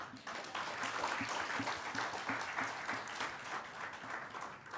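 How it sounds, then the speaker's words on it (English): Steady applause from a conference audience at a finance forum plenary session, a dense wash of many hands clapping continuously at an even level for several seconds without pause. "we're going to need to hear a bit more applause for the Deputy Governor."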